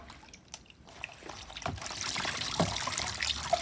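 Haiter bleach pours into a measuring cup in a steady liquid trickle that swells and continues through the clip, with faint handling knocks at the start.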